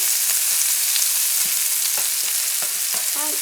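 Sausages brown in a frying pan with a loud, continuous close sizzle, broken by occasional light taps and scrapes of a utensil.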